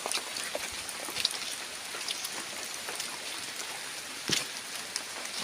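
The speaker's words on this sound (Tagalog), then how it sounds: "Ayan, maulan." Rain falls steadily on a forest trail, a soft constant hiss with scattered sharper drop ticks, faint and even throughout with no talk.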